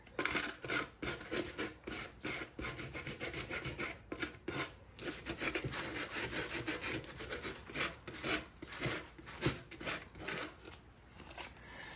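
Rough sandpaper worked by hand over painted wood furniture, a thrift-store storage piece being upcycled, giving steady rasping strokes in a quick back-and-forth rhythm, close and fairly loud, with no talking.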